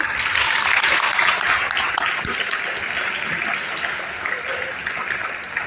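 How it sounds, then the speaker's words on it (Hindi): A crowd at an AI summer camp class claps steadily in sustained applause, loud and even throughout. "सबके लिए एक बार जोरदार तालियां"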